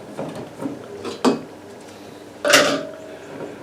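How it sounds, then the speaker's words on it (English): A lid being fitted onto a glass jar of apple moonshine, a couple of short clinks and a scraping twist, close and clear with no talking. "I'll put a lid on this one anyway."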